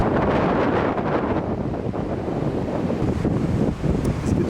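Strong wind gusts roar steadily across a wooden suspension bridge outdoors, a loud continuous buffeting rush with no voices.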